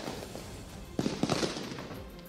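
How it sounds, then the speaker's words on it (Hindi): Firecrackers set off by protesters at police crack in a quick cluster of several sharp pops, heard from a distance over a noisy crowd background. "उन्होंने भी पुलिस वालों पर अलग अलग तरह के पटाखे छोड़ दिए"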